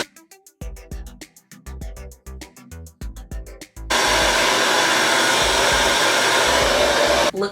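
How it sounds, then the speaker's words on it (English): A Deva Curl hair dryer switches on at medium speed partway through and roars steadily and loudly, after a stretch of rhythmic music. "This is why I say you should get this blow dryer."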